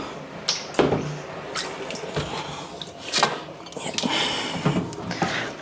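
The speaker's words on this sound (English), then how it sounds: "Might have to wash this in the tub." Tap water runs into a bathtub while a large fridge drawer is rinsed and handled, with intermittent splashes, knocks and drips close by.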